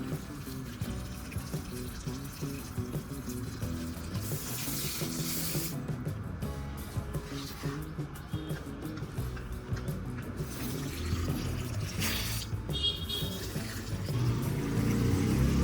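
Water splashes steadily onto potted mint plants, a continuous hissing, spattering pour that runs the whole time, close and fairly loud with no talking.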